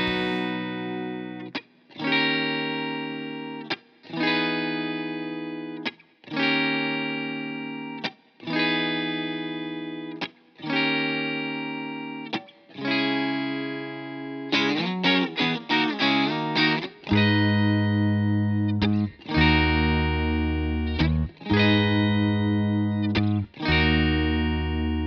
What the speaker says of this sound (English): transitioning into a much heavier distorted tone via the Proco Rat 2